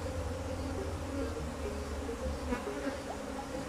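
A dense, steady buzz from an extremely defensive honeybee colony during a hive transfer, with drone comb present; the swarm hums loud and close throughout, with occasional individual bees whining past.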